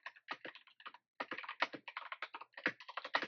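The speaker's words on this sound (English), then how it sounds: "I'm typing in" Rapid keystrokes on a computer keyboard come in uneven bursts, close and clear, with one short pause before the typing picks up again.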